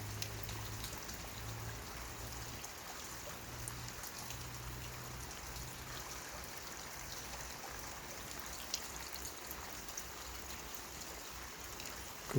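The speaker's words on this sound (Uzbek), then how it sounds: "Yomg'ir yog'ib qoldi bugun." Steady rain falling outdoors beside a fish pond, a continuous hiss of drops and light patter with no gaps, moderately quiet and even throughout, with a low hum underneath early on and no talking.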